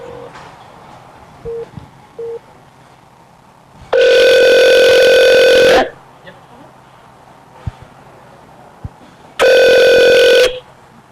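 Telephone ringing with an incoming call from a client, two long electronic rings separated by a pause, loud and close over a quiet room.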